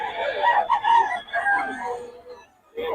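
A gamefowl rooster crows at a seller's yard, a loud, close call drawn out over a couple of seconds, then a short second burst at the end.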